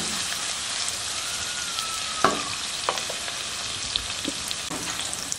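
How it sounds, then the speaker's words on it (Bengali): Onions fry in hot oil in a pan for chicken kosha, cooking toward brown with a constant dense sizzle, a sharp clink near the middle and a few scattered pops and spatters. "আমরা পেঁয়াজটাকে ভেজে দিচ্ছি ভালো করে।"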